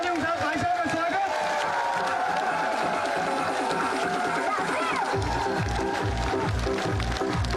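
Crowd at a Congress party election rally in Shiv, Rajasthan applauds and cheers to welcome a speaker, a dense, steady wash of clapping and voices filling the whole stretch with no break.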